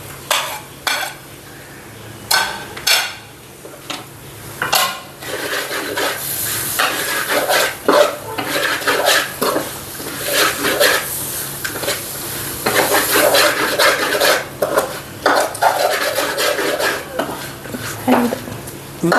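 Chopped tomatoes being stirred into a hot pan of frying onion masala for beef curry, with a continuous sizzle and repeated scraping of a spoon against the pan, close and steady throughout.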